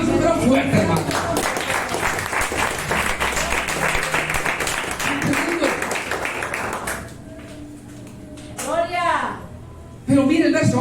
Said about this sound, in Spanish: un aplauso pero fuerte, hermano